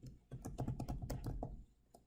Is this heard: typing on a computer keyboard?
yes